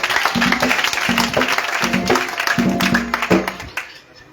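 A worship-service congregation in Grand-Bassam claps and cheers in acclamation of Jesus. Rhythmic clapping swells in steady pulses under a low musical drone, then fades toward the end.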